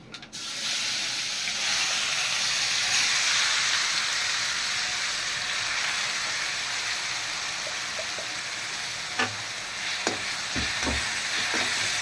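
Onion with asafoetida sautés in a pan for an onion pickle, giving a steady close sizzling hiss that runs evenly, with a few soft knocks and utensil taps near the end and no talking.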